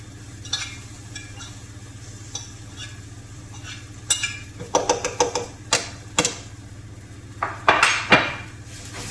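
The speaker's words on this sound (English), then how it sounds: "Mix that round as well. Get it all coated." Garlic is stirred into caramelising onions in a pan for eggplant parmigiana over a low sizzle and a steady background hum. A utensil clinks and scrapes against the pan, sparse at first, then in quick bursts.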